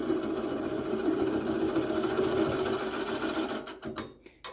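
A wood lathe runs steadily at close range with a continuous whirring hum and faint tool chatter, cutting off abruptly near the end.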